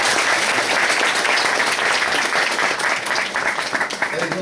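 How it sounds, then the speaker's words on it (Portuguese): A lecture audience breaks into sustained, dense applause that holds steady for several seconds before thinning slightly at the end. "Dhanvantari Swami, vamos aplaudi-lo."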